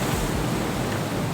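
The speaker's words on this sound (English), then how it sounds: "Sorry, a wave nearly hit me." Ocean waves break on Turimetta Beach in a dense, continuous wash of surf, loud and close, with a low rumble beneath the hiss.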